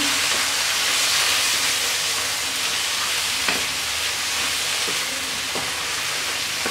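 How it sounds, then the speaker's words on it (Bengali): Bottle gourd fry with egg being stirred in a hot pan, a steady broadband sizzle with a few faint scraping strokes; no one speaks. "এবার একটু নেড়ে দেব।"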